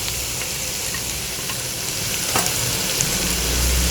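Onion, capsicum and cabbage stir-frying in hot oil for chicken and vegetable fried rice, a loud steady sizzle with scraping stirs and a brief clatter, no voices.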